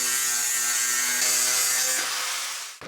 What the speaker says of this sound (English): I could just grind, yeah, that's what I'm going to do.